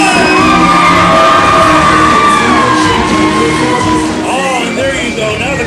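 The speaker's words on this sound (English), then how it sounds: "Now the crowd making some noise" A pro wrestling audience at a live show roaring, with loud continuous shouting, whooping and yelling from many voices that stays at full volume throughout.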